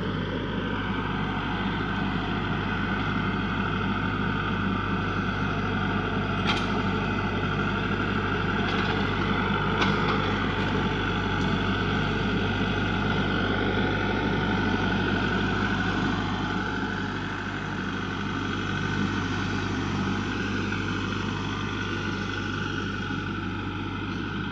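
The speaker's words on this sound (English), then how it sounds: "Send Sam to get the tractor." A tractor engine idles steadily at a rural cabin property, a low constant drone that holds even for the whole stretch, fairly loud and unbroken, with a few faint clicks over the top.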